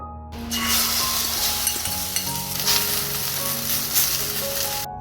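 Food frying in oil in a kadai (wok) at home: a loud, constant sizzle under irregular stirring scrapes and light clinks, close up, with no talking.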